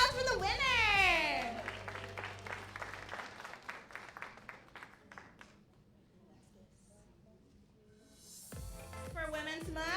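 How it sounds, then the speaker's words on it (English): Applause from an audience at a women's summit celebrates a raffle winner, a steady clatter of many hands that swells, holds for several seconds and then fades, with voices before and after it. "round of applause for the winner"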